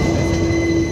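A weekly express passenger train passes close at a railway station, a loud sustained rumble of wagons and rolling wheels with a steady metallic squeal running the whole time, and no voices.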